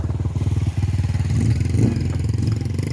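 Motorcycle engine close by at a busy rider stop near a cave church in the Philippines, a loud pulsing putter that rises slightly as the bike moves.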